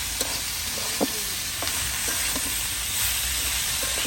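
Potatoes frying in a pan over a wood-fired stove, a steady loud sizzle with occasional stirring clicks and scrapes and no talking.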